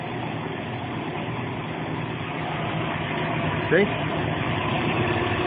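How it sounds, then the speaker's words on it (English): A Casa Herrera HDCG heavy duty corn grinder with a 20 horsepower motor runs with a steady, loud mechanical drone throughout, and a brief voice speaks over it. "It's running. Just turned it on. 20 horsepower grinder."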